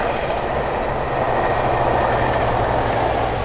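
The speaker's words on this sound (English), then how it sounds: "there's a train." A Surfliner passenger train rolls past along the coast with a loud, steady rumble and rushing wheel noise, close and continuous, without speech.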